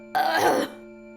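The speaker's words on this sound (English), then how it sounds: "He falls to the ground, coughing up blood." A single harsh, raspy cough or throat-clear from a character in the visual novel Fate/Stay Night, a short close burst standing alone against quiet background music.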